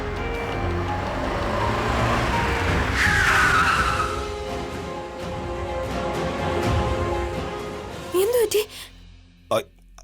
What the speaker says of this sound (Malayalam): അതുകൊണ്ട് പെട്ടെന്ന് ബ്രേക്ക് അപ്ലൈ ചെയ്യേണ്ടി വന്നു